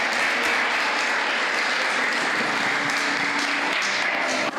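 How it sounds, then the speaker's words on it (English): Loud, sustained applause from a large audience at a Flatoberfest 2021 event as a speaker is introduced, a thick continuous roar of clapping that holds steady throughout. "Big round of applause for Bob."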